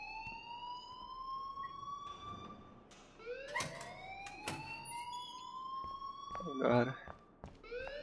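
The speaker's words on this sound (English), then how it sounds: "please turn off that alarm" An alarm rings in the video game Life is Strange with sweeping, siren-like tones that repeatedly rise and wail, while a person talks over it throughout.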